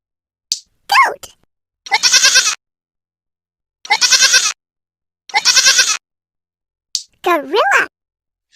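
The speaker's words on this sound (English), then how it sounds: "Goat." A goat bleats three times in separate, loud, close calls, with a brief spoken voice before and after.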